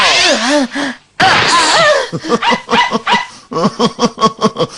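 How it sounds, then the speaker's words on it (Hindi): A cartoon dog barks and yips in quick excited bursts, loud and close, with gasping sounds and a brief pause before a rapid string of barks. "ये मेरा प्यारा डॉगी है।"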